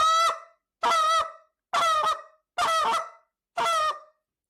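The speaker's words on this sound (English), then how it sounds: "a held I note moan is going to sound" Five evenly spaced goose call notes, each a held I note moan blown on a call, loud and close with short gaps of silence between them.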